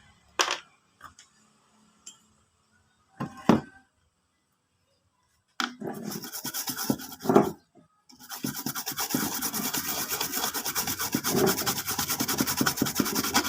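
Rag wiping a circuit board clean with thinner on a DB Audio 5022 amplifier, scattered short rubbing strokes at first, then a long continuous scrubbing rub, close and fairly quiet with no talking.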